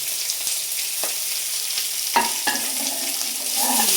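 Tomato pieces fry in a pan for a curry made with ice apple (thati munjalu), a steady sizzle running throughout, punctuated by a few sharp scrapes and clinks of stirring.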